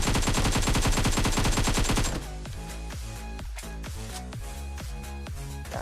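Rapid automatic gunfire from the PUBG Mobile shooter game, a loud continuous burst for about two seconds followed by a slower string of single shots, no voices.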